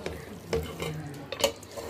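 Chunks of country chicken being stirred in a pot of curry: soft, irregular scraping and wet stirring strokes, close and moderately quiet, with faint pot clinks and no talking.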